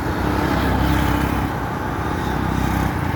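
Traffic rumbles along a main road into Tanzania, a continuous close, low drone of passing vehicles with no one speaking.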